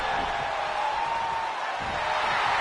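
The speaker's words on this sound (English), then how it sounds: "The sound of this crowd is deafening, and he's asking for more." A loud, continuous roar of a large crowd cheering in the wrestling video game WWE 2K22, broad and sustained with no pauses.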